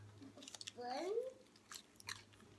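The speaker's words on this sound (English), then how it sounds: "Chew them up good." A child chews spinach leaves in soft, wet crunching bursts, close and quiet, while people talk nearby.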